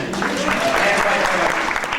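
Theatre audience applause during a Broadway show, a steady, loud wash of clapping that runs through the short stretch, with a voice faintly over it.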